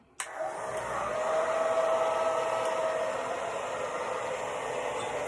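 A hair dryer switches on and blows steadily while drying the roots of curly hair, a loud, even rushing whoosh with a faint whine that holds nearly unchanged for several seconds, with no voices.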